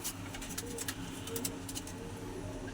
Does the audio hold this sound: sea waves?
no